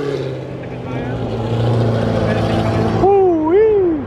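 A modified Dodge Hellcat, fresh off the lot, drives along a city street in Houston with a loud, steady engine drone that rises into a sweeping wail near the end.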